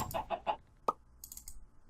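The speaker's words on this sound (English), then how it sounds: "That's a pink chicken." Chicken clucks from the Minecraft Sky Factory 3 video game: three quick clucks, then a sharp click, then a brief higher chirpy burst, moderately loud with no talking.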